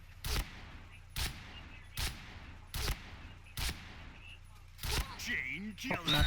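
Gunfire in the online shooter Point Blank, six sharp loud shots at a steady rhythm about one per second, followed by a burst of rapid shots mixed with game effects.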